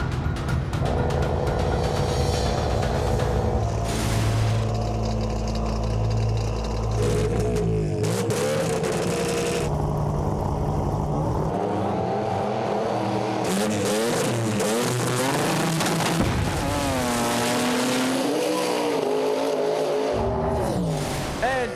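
Racing engines roar loudly and continuously at a drag race, shifting through rising and falling revs with harsh bursts and a crowd-like wash, a turbocharged rotary-engine drag car launching off.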